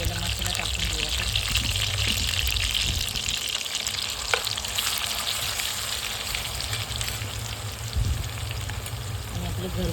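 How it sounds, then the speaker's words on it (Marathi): Ground homemade masala paste frying in hot oil for a spicy chicken thali, a steady dense sizzle with occasional stirring scrapes, loud and close throughout. "तो आपल्याला तेलामध्ये भाजून घ्यायचा आहे. त्याच्यामध्ये हा वाटण केलेला मसाला टाकून घेऊया आपण."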